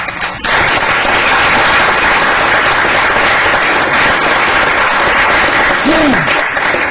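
Steady, loud applause in a county commissioners court session honoring public defender's office staff, sustained dense clapping with brief voices over it.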